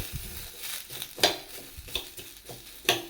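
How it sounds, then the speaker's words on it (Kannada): Onion frying in a spoonful of oil in a pan gives a soft sizzle beneath the stirring, punctuated by a few sharper scrapes and clinks of the spoon against the metal. "ಒಂದು ಸ್ಪೂನ್ ಎಣ್ಣೆ ಹಾಕ್ಕೊಂಡು ಇದನ್ನ ಫ್ರೈ ಮಾಡ್ಕೊಂಬಿಡೋಣ"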